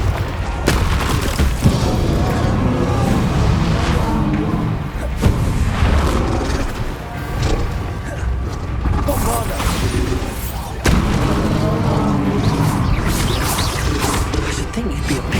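Booming Confringo fire-blast spells in the Hogwarts Legacy game, loud bursts and crashes repeating through a dense, roaring battle din with a voice speaking over it.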